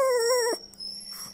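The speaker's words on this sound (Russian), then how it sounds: "Мама скулит и щенки." A wet, cold mother dog and her puppies whimper, one thin, wavering high-pitched whine lasting about half a second, then faint squeaks and soft rustling, close by.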